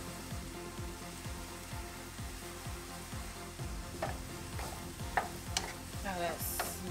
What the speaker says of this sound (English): the onions and the mushrooms have cooked down some, so I'm going to add the seasoning